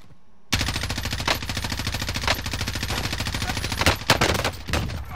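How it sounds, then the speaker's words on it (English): Sustained automatic gunfire in the video game Call of Duty: Modern Warfare, a dense rapid rattle that starts abruptly and runs continuously with a few louder bursts and heavier shots toward the end. "Shooting at me."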